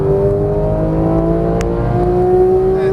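A Porsche 991 GT3 of 475 hp accelerating hard on a race track, engine climbing in pitch in one continuous loud, close whine and roar, with no talk over it.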